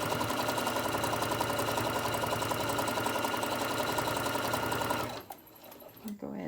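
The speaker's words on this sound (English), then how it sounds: "I'm going to go nice slow down the bottom, sewing as straight as I can." A sewing machine stitches a fabric crayon roll with a fast, steady mechanical chatter for about five seconds, then stops abruptly, leaving quiet room sound.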